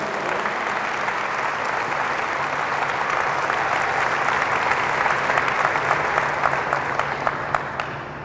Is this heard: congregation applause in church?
yes